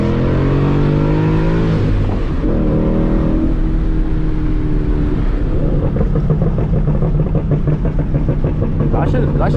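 A loud Ford Mustang GT engine pulls hard through the gears at night, a deep rising roar that drops and climbs again as it shifts, heard close from inside the car with a voice speaking over it.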